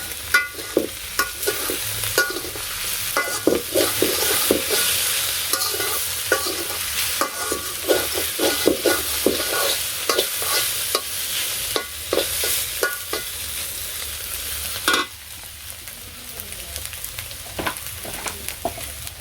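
Snake gourd fries with egg in a pan, giving a constant loud sizzle. Close scraping stirs and clatters repeat through it, and the sizzle drops to a softer hiss near the end.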